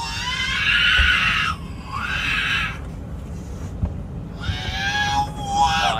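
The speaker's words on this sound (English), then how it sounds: "Why does the screaming baby on this plane sound exactly like R2-D2?" A baby on a plane screams in high, warbling electronic-sounding squeals in bursts, loud and close over the steady low rumble of the cabin.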